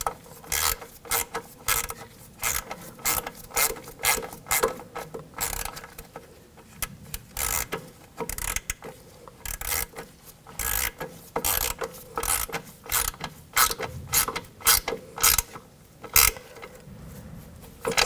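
Ratchet tightens the nut on a rear forward control arm of a 2000-2006 BMW X5, rapid clicking strokes repeating in steady bursts with short pauses, close and clear, no talking.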